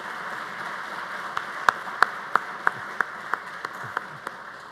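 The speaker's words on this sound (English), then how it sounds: "I think she deserves a round of applause for her unwavering support." Light applause at a building dedication and honouring ceremony, a soft bed of clapping with a few sharp, louder individual claps standing out near the microphone.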